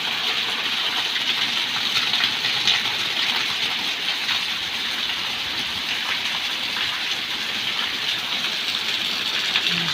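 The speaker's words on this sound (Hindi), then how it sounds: "बहुत तेज़ बारिश हो रही है" Heavy rain pours steadily throughout, a dense, constant hiss with no breaks and no voices.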